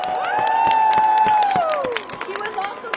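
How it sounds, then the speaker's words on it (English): Applause at an outdoor protest in Washington, DC against Russia's invasion of Ukraine, with sharp scattered claps and crowd cheering under a loud, sustained whistle-like tone that slides down. "Please give her a round of applause."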